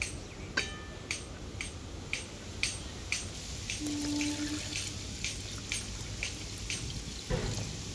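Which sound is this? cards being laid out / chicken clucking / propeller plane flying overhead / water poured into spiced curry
water poured into spiced curry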